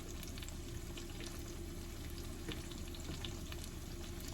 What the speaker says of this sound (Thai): เราก็จะเอาน้ำมันใน อันนี้แหละมาผัดกุ้งเนาะ